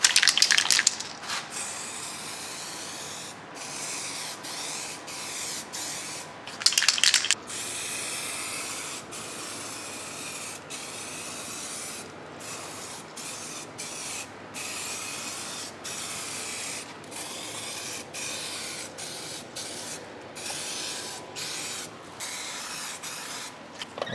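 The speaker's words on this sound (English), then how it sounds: "I keep spraying this side a lot better than the other side." Aerosol spray paint hissing onto a rusty car body panel being blended, a steady close hiss with bursts of louder spraying and short pauses between passes.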